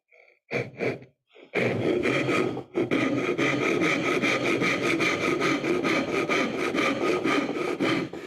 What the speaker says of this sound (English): I'm sawing square across on the top.